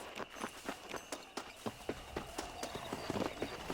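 Horse hooves gallop in Red Dead Redemption with a steady, rhythmic clip-clop of beats, close and moderately loud over a low background rumble.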